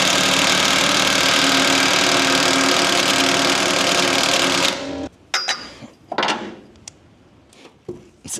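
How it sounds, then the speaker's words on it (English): An impact wrench with a 1 11/16 socket backing off a large nut runs as a loud, continuous buzzing hammer for about five seconds, then stops, followed by scattered clanks and handling noises. "So we're going to put an impact on there and back that off."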